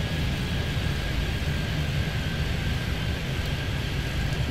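A steady, loud broadband roar of an aircraft taking off at a Miami airport in Airport Madness 3D, constant and unbroken throughout with no talking.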